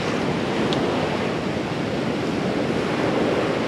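Waves wash steadily onto a small, quiet beach, a constant close broadband roar of surf with no break and no voices.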